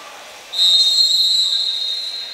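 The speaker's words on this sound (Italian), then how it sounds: "C'è poi un fischio dell'arbitro." A referee's whistle at a basketball game between Meta Formia and Virtus Aprilia gives one long, steady shrill blast over faint arena noise and lasts well over a second.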